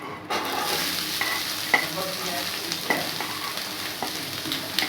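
Chopped onions fry in oil in a pan for oats upma, a steady hiss of sizzling broken by occasional scrapes and taps of a spoon stirring.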